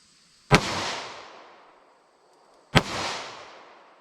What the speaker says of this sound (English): 327 Federal Magnum, that's a move up even from that.